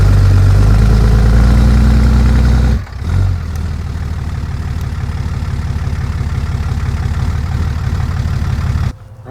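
A FIERYRED 4x4 engine drones loudly and steadily while the vehicle climbs onto offroad traction boards, heavy low rumble easing briefly before settling into a continuous idle-like throb, then cutting off at the end.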